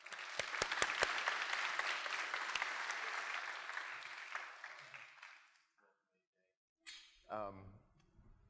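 Audience applause welcoming Arthur Jafa and Stephen Best to an in-conversation event, a full room clapping steadily for about five seconds before fading out, followed by a short pause and a voice beginning to speak.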